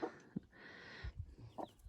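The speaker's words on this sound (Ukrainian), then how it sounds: "А ось тут ми таки маємо домінанта квочку." A broody Dominant breed hen clucks in a few short, close bursts, with soft low rustling between the calls and no talking.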